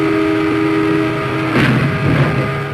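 Train on railway tracks gives a loud, steady rumble with sustained tonal hum that swells briefly in a burst of broadband noise midway, then continues rumbling with no speech.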